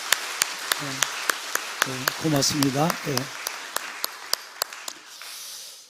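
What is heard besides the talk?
congregation applauding in church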